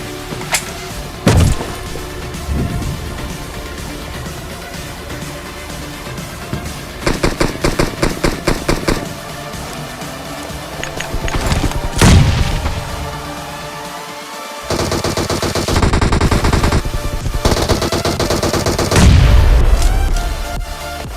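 Bursts of automatic gunfire and booming shots from PUBG Mobile, loud and close, with rapid rattling volleys separated by short gaps and heavier impacts.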